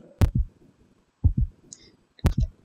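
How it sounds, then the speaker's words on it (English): Three slow, evenly spaced double thumps of a heartbeat in a horror video game, each beat a pair of deep, close pulses, with faint high chirps between. "And I can still hear the heartbeat"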